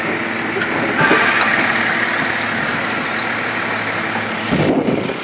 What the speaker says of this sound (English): So it started first go. I mean, someone was looking at it earlier. So this is the L20 engine, 2-litre engine.